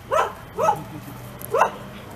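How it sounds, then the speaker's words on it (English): A dog gives three short, sharp barks close by, the first two quick together and the third after a brief pause. "Opie, lay down, puppies."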